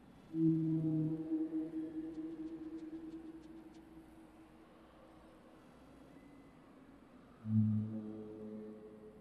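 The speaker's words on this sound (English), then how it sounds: "Or the mysterious feeling of exploration in the fall through uses of these ambient, whale sounds." Low, drawn-out whale calls in the ambient soundscape of a Celeste video game mod, two long moaning tones, the first lingering for several seconds and a second shorter one near the end, over a soft hushed background.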